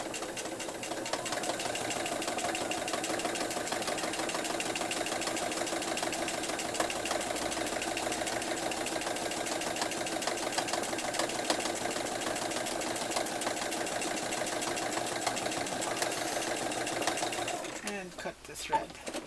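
A sewing machine runs in a steady, continuous stitching whir while sewing a face mask with a zipper foot along a wire, loud and close, then stops near the end with a few handling clatters.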